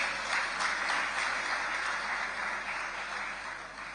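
An audience at an annual ports council meeting claps for a sponsor with sustained, even applause that gradually tapers off toward the end.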